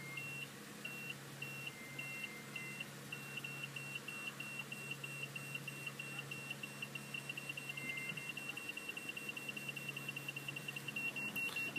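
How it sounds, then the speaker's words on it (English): A quiet, rapid series of high-pitched beeps from a Toyota Sienna's reversing sensor repeats over a steady hum, growing faster toward the end into a nearly continuous beeping. "you will hear a beep in the background"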